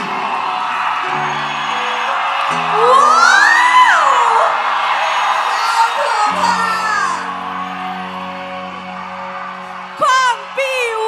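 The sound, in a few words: concert audience screaming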